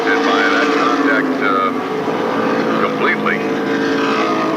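Pro stock race cars circle a half-mile oval at Stafford Speedway, a steady loud engine drone holding throughout with faint pitch sweeps as cars pass, a commentator talking over it.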